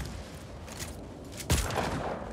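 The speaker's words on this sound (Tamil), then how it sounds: "ஓ ஏதோ ஷார்ட் கன் மாதிரி இருக்கு" A shotgun in the Just Cause 4 video game fires a single sharp blast midway, heard over a low background rumble of gameplay.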